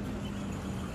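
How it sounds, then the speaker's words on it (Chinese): A military tank's engine revs up as it accelerates during a tank-drifting display, a steady, loud, dense rumble with a low hum lasting about a second. "明显感觉到引擎的声音 在提升。"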